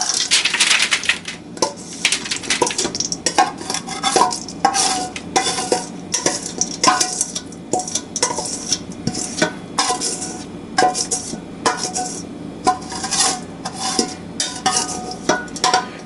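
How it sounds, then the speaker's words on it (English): Metal spatula repeatedly scraping and pushing a sticky oat mixture across a pan, loud close irregular scrapes and taps continuing without talk. "we're going to use a metal spatula, scrape this into the center of the mixture"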